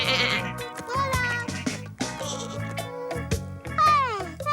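Lambs bleat repeatedly on a summer farm, their wavering calls loud and close, one after another with brief gaps, several voices overlapping over a low rumbling background.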